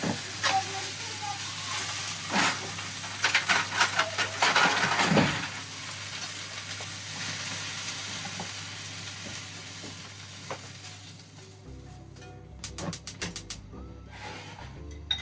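Vegetables and mushrooms in a frying pan give a steady close sizzle with bursts of scraping and clattering as they are stirred, easing into a quieter hiss, then a brief run of rapid clicks near the end.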